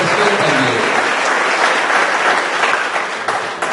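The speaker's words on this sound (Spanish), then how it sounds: "un fuerte aplauso para todos los que son maestros en la iglesia y los que son profesores también" A church congregation applauds its teachers and professors with dense, steady clapping that stays loud for the whole stretch.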